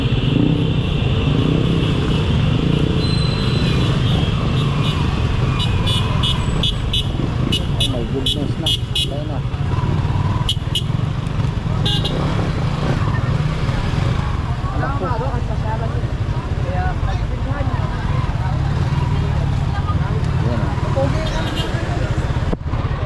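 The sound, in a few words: road traffic with cars and jeepneys stopping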